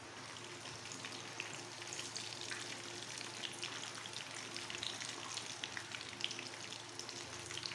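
Bread chicken rolls deep-frying in oil over a medium flame, giving a steady, even hiss of fine crackles and pops that holds throughout without pause.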